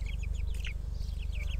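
Chicks cheep in quick, high-pitched peeps outdoors on soil over a constant low mechanical hum.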